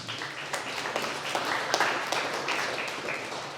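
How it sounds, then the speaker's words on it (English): An audience at a company meeting gives a colleague a round of applause: soft, steady clapping that holds at a moderate level for a few seconds and sounds somewhat distant. "Give him a round of applause"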